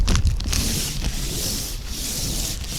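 Clay bar rubbed across rough, neglected paint on a Jeep Grand Cherokee, recorded up close: a steady gritty scraping and rasping that runs continuously with short strokes, loudest at the start, with no talking.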